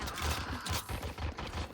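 Rapid bursts of video game gunfire in a police shooter, firing in short rhythmic volleys over a steady bed of background game noise, moderately loud and close.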